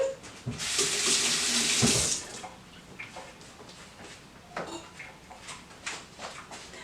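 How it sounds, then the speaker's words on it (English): Hands rinsed under a running kitchen tap: a loud, close rush of water for about two seconds, then quieter drips and light handling noises. "So I have to rinse my hands again."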